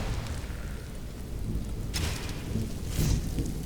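Thunder rumbling through a stormy Skyrim game world, with a low steady roll under rain and two brighter crackling swells a second apart.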